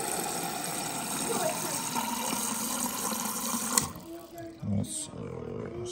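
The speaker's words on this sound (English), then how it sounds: "So we're gonna put 8 ounces of water in here." Water pours steadily into a shaker cup for several seconds, then stops abruptly, leaving quiet room sounds and faint voices.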